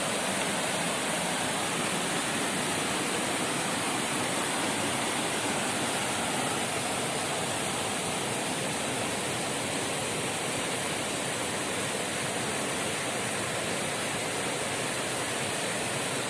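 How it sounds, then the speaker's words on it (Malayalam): Waterfall at 56 Kuthu near Painavu, Idukki, Kerala, seen from near a bridge, gives a steady, dense roar of falling water that stays constant and close throughout with no voices. "നല്ല അടിപൊളിയായിട്ടുള്ളൊരു നല്ലൊരു വെള്ളച്ചാട്ടം."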